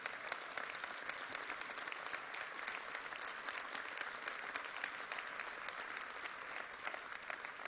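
Sustained applause from a talk audience, many hands clapping steadily and evenly throughout, heard at a moderate distance without any voices.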